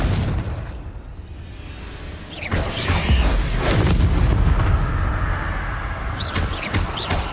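Fire-blasting spell explosions from the video game Hogwarts Legacy, several loud booming bursts in quick succession over a dense, rumbling game soundscape.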